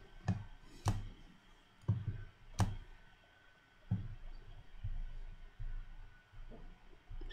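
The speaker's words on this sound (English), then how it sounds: "Pressing enter." Sharp, quiet key clicks from a computer keyboard as the enter key and other keys are pressed, scattered irregularly with pauses between them and no voices.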